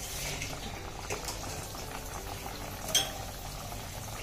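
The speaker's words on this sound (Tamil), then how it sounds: "இப்போ இதை நான் எண்ணெயில் போட்டு பொறிக்க போகிறேன்" A taco shell frying in oil that is hot but not too hot, giving a steady, soft bubbling sizzle throughout with one small pop near the end, no voices.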